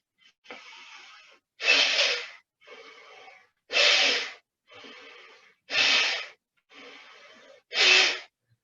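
Slow, steady breathing exercise, with four loud, full inhales alternating with four softer, longer exhales in an even rhythm, close up and with no talk.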